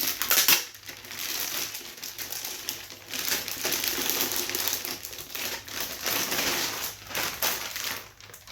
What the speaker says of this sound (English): Open this plastic up.